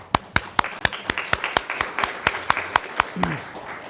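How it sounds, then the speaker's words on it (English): Sparse applause at a county school board meeting, a handful of people clapping in distinct, evenly spaced claps that carry loudly through the room, with a brief voice near the end. "Pause for applause"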